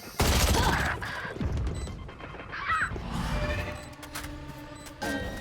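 A grenade bursts in an online first-person shooter: a loud, sudden blast with a rough, crackling tail, followed by gunfire and game clatter that stay busy and fairly loud for several seconds.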